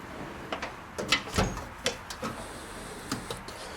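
A tool box wrench drawer slides open, heard as a quick run of light metallic clicks and rattles, close and fairly quiet, with no talking.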